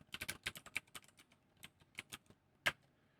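Keys on a computer keyboard clack while someone types code, in quick uneven bursts of sharp taps with brief pauses, close by and fairly quiet.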